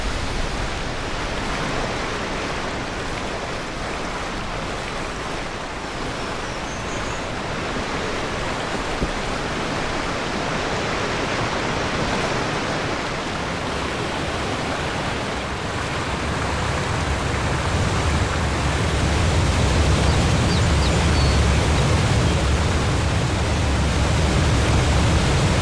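A video game waterfall rushes in a constant, loud broadband roar that swells slightly toward the end, with no one talking.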